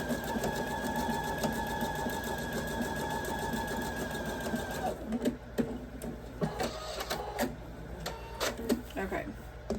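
A sewing machine runs in a steady mechanical whir for about five seconds, then stops, followed by clicks and handling noises.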